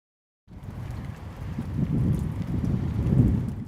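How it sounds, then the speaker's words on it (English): Wind and rain on the Aegean coast of Lesvos on a cold day, a steady broadband rush that starts abruptly after a brief silence and swells gradually, with low rumbling gusts buffeting close to the microphone. "on a cold, windy and rainy day"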